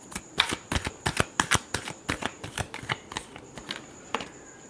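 Tarot cards being shuffled by hand, a quick run of crisp riffling flicks in an uneven rhythm, close and fairly loud with no voice over it.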